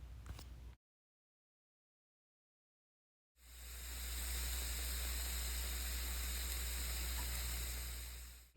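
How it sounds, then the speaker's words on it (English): Chopped onion hits a hot skillet just emptied of browned ground beef, giving a steady, soft broadband sizzle that runs on after a brief burst and a stretch of silence, with no voices. "add your chopped onion to the hot skillet"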